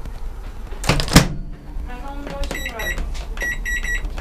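A kitchen microwave oven reheating soup: a heavy door thunk, a low hum, then a run of bright electronic beeps near the end, close and fairly loud.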